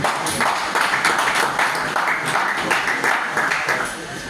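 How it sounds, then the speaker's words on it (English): Applause from an audience at a Nollywood economic outlook event, greeting a representative of the National Film and Video Censors Board; steady, fairly loud clapping runs through the whole stretch with some voices mixed in. "Please round of applause for him."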